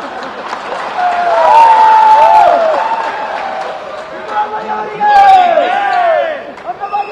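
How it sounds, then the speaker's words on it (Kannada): A crowd at a political rally in Karnataka applauds, a steady broadband clapping that swells and then subsides while an amplified voice keeps talking over it. "ಅದಕ್ಕೂ ಚಪ್ಪಾಳೆ ಕಟ್ಟೋದು"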